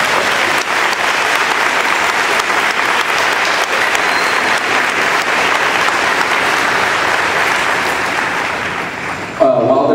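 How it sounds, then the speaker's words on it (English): A large audience claps steadily and enthusiastically for several seconds for student percussion performers at an award ceremony, a dense sustained applause that fades slightly toward the end. "Let's give all these students a big round of applause."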